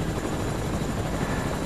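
Steady, loud helicopter rotor and engine drone from a Fortnite match, close and continuous, running without any voices over it.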